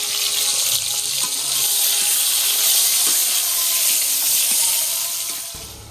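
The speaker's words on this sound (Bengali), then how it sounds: "এই যে ডিমটা ভাজা বসিয়ে দিলাম আমি।" An egg frying in a hot pan in a home kitchen, a steady bright hiss and crackle of sizzling oil that swells and fades slightly, close and alone with no talk.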